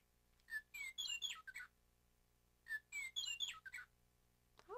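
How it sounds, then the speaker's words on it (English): A meadowlark sings two clear, fluting phrases separated by a short pause, each a quick run of whistled slurs, fairly faint against a quiet background, with the start of a third phrase at the end. "hark, I hear a meadowlark."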